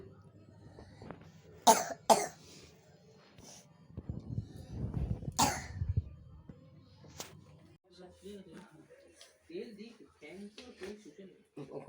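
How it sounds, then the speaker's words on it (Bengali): A feverish girl gives a few sharp, close coughs spread over several seconds amid family conversation and background talk. "দিদিটা কাশছে"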